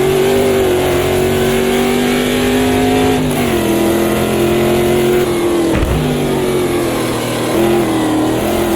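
American race car engine revving hard around the narrow Rouen circuit in Automobilista 2, a loud steady howl that rises and drops with gear changes and throttle lifts, close and continuous.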